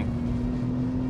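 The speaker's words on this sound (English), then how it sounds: "Turn it in, full on the throttle." Acura TLX Type S sedan accelerating at full throttle out of a corner, a steady engine drone with a strong sustained low tone, brief and close, with no speech.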